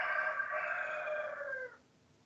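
A rooster in a village crows once in the morning, a single loud, drawn-out call held for nearly two seconds before it cuts off. Faint background hiss remains afterward.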